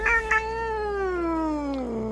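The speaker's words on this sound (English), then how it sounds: "the cat mutters an annoyed meow through her snores." An annoyed cat meow from the video game Death and Taxes: one long, drawn-out, slightly falling cry that sounds close and clear, with a couple of short soft sounds just before it and no speech.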